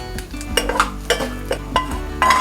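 Mustard seeds, asafoetida, peanuts and curry leaves being tempered in a pan give a soft sizzle, while a spoon makes repeated sharp scrapes and knocks against the metal.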